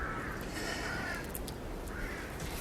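Crows cawing at a distance, faint harsh calls coming through a steady broadband outdoor hiss with no talking.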